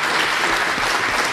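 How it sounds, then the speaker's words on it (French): At the opening of a podcast festival in Rennes, an audience gives the cooking team a brief, loud burst of dense, continuous clapping. "n'hésitez pas à les remercier, les applaudir"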